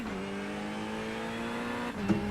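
A BMW race car engine in the iRacing video game drones at a steady high pitch throughout, holding a constant note before a brief shift and bump near the end, with no talk.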